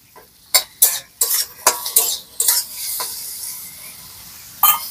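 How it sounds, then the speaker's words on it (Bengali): Chopped tomato tipped into a hot pan and stirred, several sharp metallic scrapes and clinks of a utensil against the pan over a soft sizzle, with one more clank near the end. "একটা টমেটো আমি এরকম ছোট ছোট করে কুচি করে কেটে নিয়েছি, সেটাও দিয়ে দিচ্ছি"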